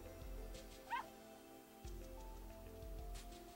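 Small pet dog named Pipi in the game Ever17 gives a brief yip and whimpering bark over a quiet, steady background, faint and short.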